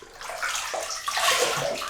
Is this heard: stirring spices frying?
no